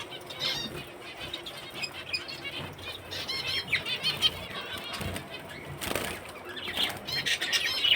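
Pet birds flap their wings in quick fluttering bursts, fairly close, with a few faint chirps mixed in among the soft rustling beats.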